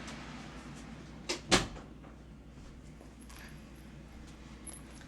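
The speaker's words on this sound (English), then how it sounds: "And I had to close the door so you can hear me." A door is pushed shut in a quiet home, a brief double knock of a latch and thud, moderately loud against a steady low hum of a furnace.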